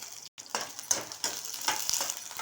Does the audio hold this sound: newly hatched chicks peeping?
no